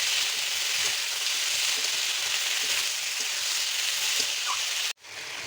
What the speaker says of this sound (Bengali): এবার মশলা দিয়ে সব কিছু ভালোভাবে মিক্স করে নেব